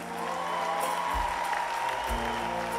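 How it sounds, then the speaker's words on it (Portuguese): A festival crowd applauds the Sons do Minho folk group at a São Brás celebration, sustained even clapping at moderate level with a couple of low bumps. "Outra grande salva de palmas para os Sons do Minho."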